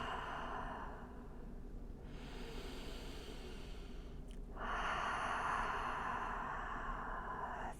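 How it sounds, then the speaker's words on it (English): Slow, deep yoga breathing, with long airy exhales rising and falling in two broad breaths, close and soft, alone without talk. "taking long inhales and really slow"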